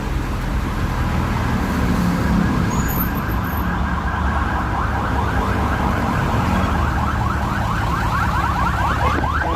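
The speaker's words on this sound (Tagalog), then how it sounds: "ambulansya pa" An ambulance siren wails and cycles steadily over continuous heavy road traffic noise, loud and close throughout, with no speech.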